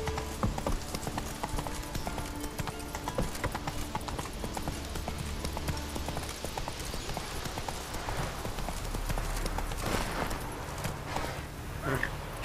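Horse hooves clip-clop in a steady walking rhythm while riding in The Witcher 3 game, fairly quiet and continuous, with a faint snort or whinny near the end and game ambience underneath.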